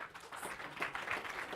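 An audience applauds a speaker at a security conference, a short burst of scattered clapping at moderate level with no voices.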